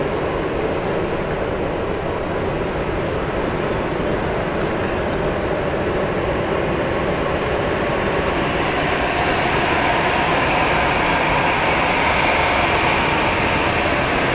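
An Aer Lingus airliner passing at Hamburg Airport, a steady broadband jet roar that holds loud and constant throughout, with no voices.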